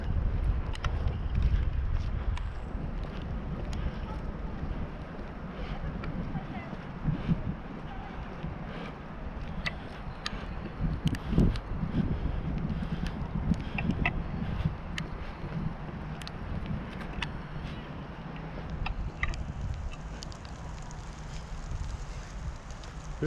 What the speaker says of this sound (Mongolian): Ер нь нэлээд салхилаадсан